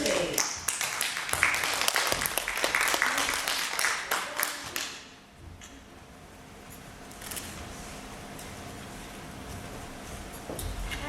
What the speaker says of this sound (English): let's give them one more round of applause as they make their way to the stage